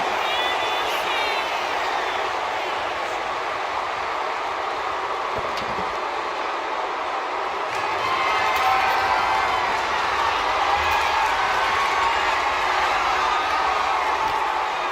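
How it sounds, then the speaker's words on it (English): An arena crowd in the WWE 2K25 wrestling video game roars in a broad, continuous wash that swells partway through, with commentators talking over it. "Listen to this crowd"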